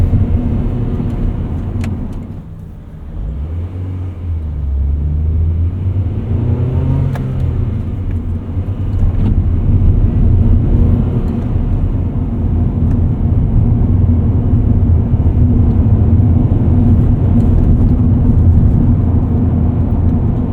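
A 1999 Honda Prelude Type SH with a 5-speed manual revs while driving, its engine dipping briefly and then climbing into a steady loud drone under road rumble, with no talking.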